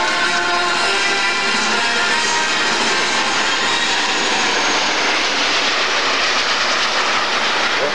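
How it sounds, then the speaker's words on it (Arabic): A formation of L-29 jet trainer aircraft passes overhead during a military graduation ceremony, a loud steady broadband roar filling the whole stretch without any talk. "ظهر تشكيل من طائرات لام 29"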